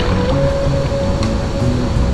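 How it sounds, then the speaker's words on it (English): Water pours over a reservoir spillway in a loud, steady, broadband rush with a constant low rumble, heard from nearby out on the water without any voices. "There's a spillway over here. I'm being very cautious because I hear it,"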